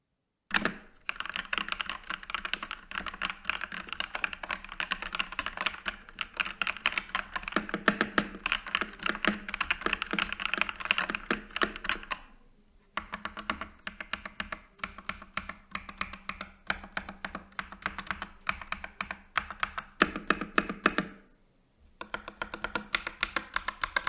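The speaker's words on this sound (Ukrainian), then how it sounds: "Клавіатура здалась мені досить шумною. Якщо ви вперше купуєте механіку, будьте готові до ось такого рівня звуку." Steady, fast clacking of a HATOR Rockfall TKL Mecha mechanical keyboard with linear switches being typed on, close and loud, with two brief pauses in the stream of keystrokes.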